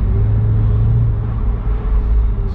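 Deep, steady rumble of a Mercedes-AMG SL 55 V8 idling or cruising, loud and close, with a low throb that barely changes throughout.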